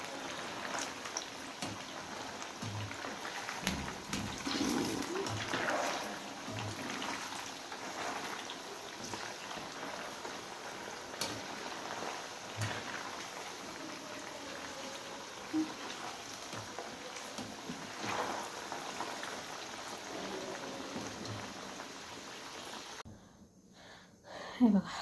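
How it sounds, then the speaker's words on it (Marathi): French fries deep-frying in oil over a high flame bubble and sizzle in a steady, rain-like crackle that runs continuously before cutting off just at the end. "आणि ह्याला छानपैकी तळू देऊया. तळून घेऊया असं छान."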